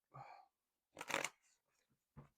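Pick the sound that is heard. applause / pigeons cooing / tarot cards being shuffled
tarot cards being shuffled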